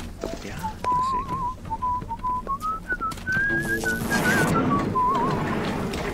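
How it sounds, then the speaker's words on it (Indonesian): A clear whistled melody from a Bioshock character climbs steadily in pitch then drifts back down over about six seconds, close and prominent above a low rumbling game ambience. "Santai banget lo bisa bersiul"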